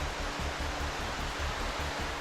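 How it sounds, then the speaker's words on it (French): A waterfall pours beneath a canal bridge, a steady, even rush of falling water heard alone at moderate level without any break. "Et cette cascade sous le pont-canal,"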